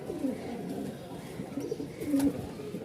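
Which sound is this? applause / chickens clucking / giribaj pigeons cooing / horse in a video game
giribaj pigeons cooing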